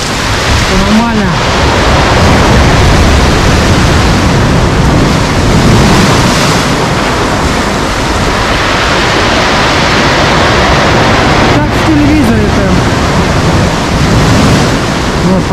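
Loud, continuous roar of stormy sea surf crashing at Lazarevskoye, with heavy wind buffeting the microphone; faint voices are barely audible beneath the noise.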